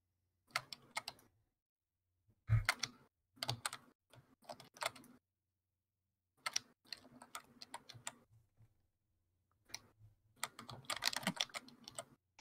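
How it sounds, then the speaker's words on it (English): Noisy computer keyboard picked up by a microphone, bursts of rapid typing clicks in several short runs separated by pauses, close and clear with no talking. "The clicking sounds are coming through the mic."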